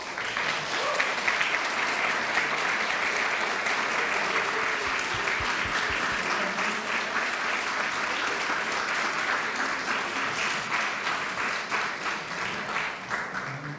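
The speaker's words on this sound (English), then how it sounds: "Please join me in a round of applause for this amazing group." Sustained audience applause at a pediatric residency graduation ceremony, a dense, even wash of many hands clapping at moderate loudness throughout, with no voices over it.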